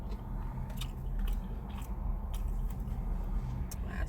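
Close biting and chewing on a taco topped with pico de gallo, steady wet crunchy mastication continuing throughout with no talking.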